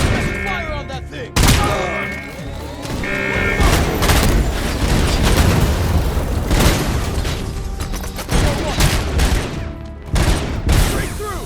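Loud, dense gunfire from the RoboCop: Unfinished Business video game, sustained bursts and booming impacts with mechanical clatter, filling the scene nearly continuously with brief gaps.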